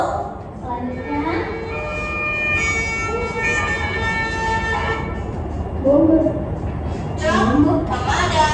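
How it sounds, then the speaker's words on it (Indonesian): An ambulance siren wails with rising and falling tones, mixed with honking horns and a voice speaking over it. "Mobil ambulans."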